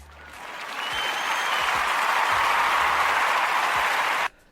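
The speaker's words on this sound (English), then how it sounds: "Now, you know, that deserves an applaud." Crowd applause sound effect, a swell of many hands clapping that builds, holds loud and steady, then cuts off abruptly.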